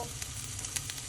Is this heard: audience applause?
no